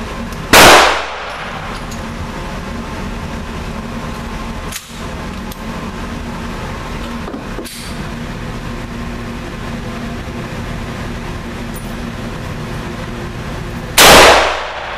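A Mosin Nagant rifle, an 1892 design, fired at steel targets outdoors: two sharp, loud reports with metallic impact clangs, about thirteen seconds apart, over a steady background hum.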